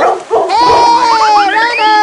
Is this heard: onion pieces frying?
no